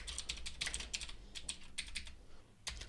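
Keys clatter on a computer keyboard as Python code is typed, a quick uneven run of soft close clicks with brief pauses, quiet and without speech.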